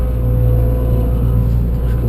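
John Deere 2256 combine harvester with a 250-horsepower engine on hydrostatic drive, a steady loud low diesel drone from inside the cab as throttle is given, no talking.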